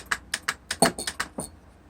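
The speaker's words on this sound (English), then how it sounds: "the unit is clicking" A Mercedes 600SL throttle Egas module clicks on a workbench with power applied, a run of about ten sharp, evenly spaced clicks close up, loud and alone with no talking.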